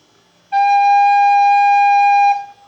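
Close and alone, a flute plays a sustained G, a pure, even tone held for nearly two seconds with a crisp start and a quick fade.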